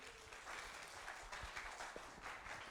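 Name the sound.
audience applause welcoming a TEDx speaker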